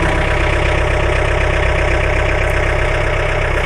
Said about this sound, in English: now I'll go ahead and turn on the tractor so you can hear how it sounds.